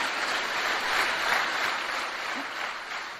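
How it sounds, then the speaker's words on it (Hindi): Steady audience applause at a network marketing seminar, a dense wash of clapping that holds at a fairly even level throughout with no voices breaking through. "जोरदार तालियां हो जाए"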